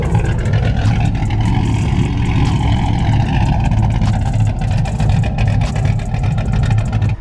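A loud 2014 Chevrolet Silverado pickup with an axle-dump exhaust and custom tip rumbles steadily up close, a deep throaty exhaust droning without pause.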